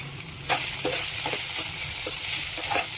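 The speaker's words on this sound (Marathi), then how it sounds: "बटाटा तेलामध्ये व्यवस्थित परतून घ्यायचा आहे।" Sago and potato sauté in hot oil for sabudana khichdi, producing a close, continuous sizzle with intermittent spatula stirs and scrapes, no voices.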